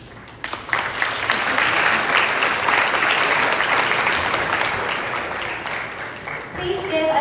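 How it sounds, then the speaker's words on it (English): Sustained applause from a gala crowd honouring an assembly member, rising sharply after a brief quiet start and holding steady and loud before tapering slightly near the end. "Please give Assembly Member Mark Gonzalez another warm round of applause."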